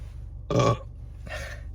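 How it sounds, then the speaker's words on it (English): A single loud, close burp of about a quarter second, followed by a fainter, shorter second belch, heard alone with no talk over it. "I think I'm gonna burp."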